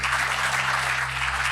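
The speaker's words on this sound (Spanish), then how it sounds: "Gracias por esos aplausos." A church congregation applauds during a Sunday service, a steady wash of clapping hands filling the room at a constant, moderately loud level with no pauses.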